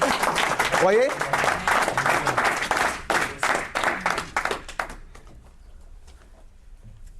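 Congregation applauding at a French-language church service, a burst of loud clapping that fades after a few seconds, with a preacher's voice over it.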